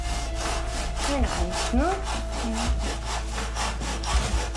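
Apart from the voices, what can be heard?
sawing hardwood bed frame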